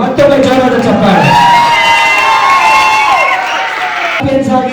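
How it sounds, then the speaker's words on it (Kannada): Loud, sustained cheering and whooping from a crowd at a state-level cultural program as prize winners are honoured, with applause underneath and shouts from children running through the whole stretch. "ಜೋರದ ಚಪ್ಪಾಳೆ ಇವರಿಗೆ, ಮತ್ತೊಮ್ಮೆ ಜೋರದ ಚಪ್ಪಾಳೆ."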